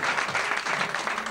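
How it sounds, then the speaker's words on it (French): Audience at a singing show claps in a short, dense burst of applause, close and steady for its brief length. "on l'applaudit encore une fois"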